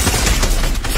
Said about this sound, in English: This kid just shotgun 3 people.